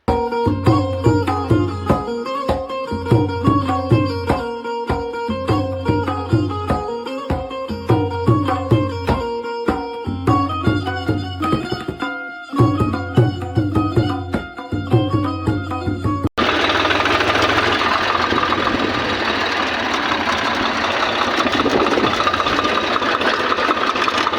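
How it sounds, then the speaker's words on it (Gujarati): A tractor engine runs close by on the way to a cumin field, holding a steady, rhythmic mechanical chug for most of the stretch before opening into a rougher, broader roar that continues to the end. "આપણે અત્યારે આ ટ્રેક્ટર લઈને જવાનું જીરાવાળા ખેતર"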